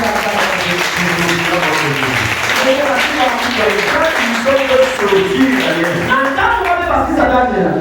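A church congregation claps and cheers in praise during a sermon, loud sustained applause mixed with many voices calling out, dense and close, tapering off near the end.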